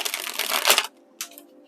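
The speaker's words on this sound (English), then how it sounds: "One more shuffle." A deck of tarot cards is shuffled by hand for a reading: a dense riffle of flicking cards for under a second, then a short second burst, close and soft.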